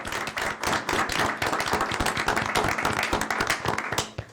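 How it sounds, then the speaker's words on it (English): Audience at a city mayor and council meeting clapping for an honoree, a room-filling round of hand claps that swells, holds steady and then tapers off at the end. "let's give Bernie a round of applause"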